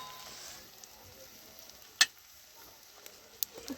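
Onions fry in hot oil for a Marathi-style khichdi, a faint steady sizzle with a couple of sharp ticks and pops and no talking.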